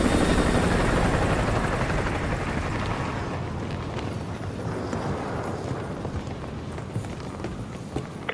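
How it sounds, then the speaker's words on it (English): An enemy helicopter patrols in Call of Duty Modern Warfare 2, its rotor thumping loudly at first and then fading into a lower, steady whir as it moves away. "Enemy helo patrolling the perimeter."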